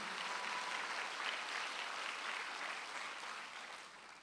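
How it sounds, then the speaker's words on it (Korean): A church congregation claps steadily through a Sunday worship service in Incheon, the dense, even applause holding near and loud from start to finish with no voice over it. "박수하세요."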